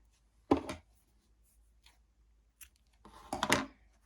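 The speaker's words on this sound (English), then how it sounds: "so I'm just gonna cut in here" Scissors cutting crochet yarn, two separate close snips about three seconds apart, each a short crisp crunch in an otherwise quiet room.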